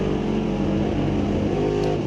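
A Ford Maverick and a 1968 Camaro drag cars launch side by side off the line at an NHRA divisional event, a loud continuous engine roar sustained throughout with no talk.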